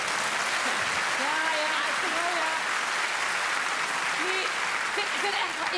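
A crowd claps steadily and densely through the whole stretch at a cabaret performance, with faint voices and singing tones surfacing over the applause.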